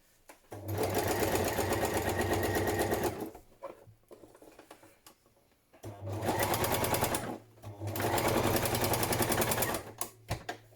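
A sewing machine stitches patchwork fabric for a padded journal cover in close, loud bursts: a long run of rapid stitching, a pause with faint handling noise, then two more sustained runs.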